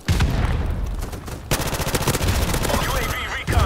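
Heavy gunfire in a shooter video game, loud and close, with rapid automatic bursts running almost without pause and one brief break midway before the shooting starts again.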